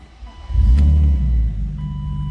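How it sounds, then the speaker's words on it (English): A 1995 BMW M3 Coupe engine cranks and catches, then settles into a loud, steady idle close by, with a door chime beeping alongside. "let's go ahead and fire this up. See and hear it run."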